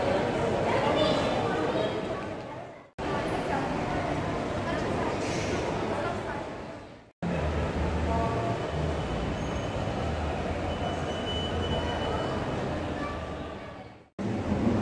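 Ride on a small train inside a shopping mall, a steady rumbling roll with brief gaps, loud and close, with crowd chatter and voices throughout.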